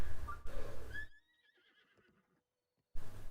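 A horse in Zelda: Breath of the Wild gives a loud, high whinny that slides and trembles, then fades into quieter trailing snorts, with a short burst of noise at the end.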